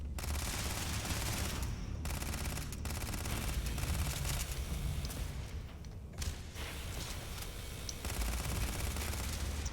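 Sustained gunfire in the video game Starfield: dense, rapid automatic bursts and overlapping shots, loud and close, with brief gaps and no talking.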